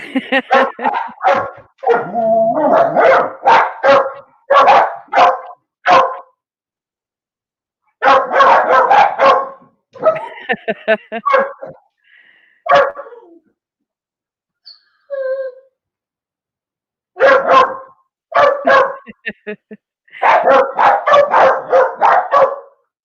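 Several dogs bark in rapid, excited volleys, loud and close, with brief pauses and a few high yips between bursts.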